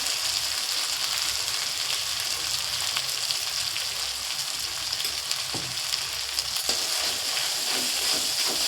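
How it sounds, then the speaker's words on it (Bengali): Spice paste of ground chilli and turmeric sizzles steadily in hot oil for a jackfruit curry, a dense, even crackle that runs the whole time with a few soft stirring scrapes and no voices. "মশলাটাকে ভালো করে কষিয়ে নেব"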